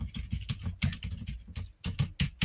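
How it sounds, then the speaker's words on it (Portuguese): Computer keyboard being typed on, rapid irregular clicks and taps in quick bursts, close and fairly clear, with no voices over them. "dá para o barulhinho do teclado"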